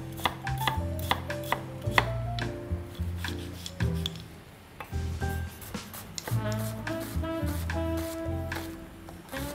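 Half an onion being finely chopped with a knife on a board, a rapid run of sharp, close knocks in uneven bursts with brief pauses, no speech.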